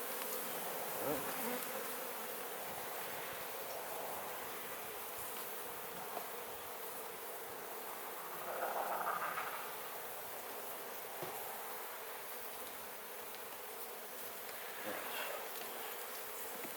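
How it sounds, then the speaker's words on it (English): Honey bees buzz around an open beehive outdoors, a soft, continuous drone with individual bees swelling louder as they pass near, some faint handling knocks underneath. "I'm trying to keep as many bees from getting in the house as I possibly can."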